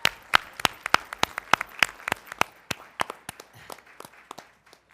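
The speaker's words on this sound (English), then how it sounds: "Please give them a big round of applause." A small group at a Board of Education meeting claps for students, sparse distinct hand claps in a loose rhythm that gradually slow and die away.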